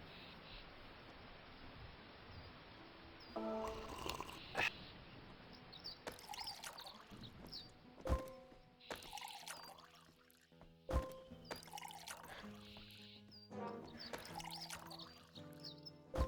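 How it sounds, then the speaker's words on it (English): Water pours and trickles as a bottle is refilled in the video game Home Behind, a quiet, uneven flow broken by sharp clicks and game effects. "How difficult is it to refill a bottle?"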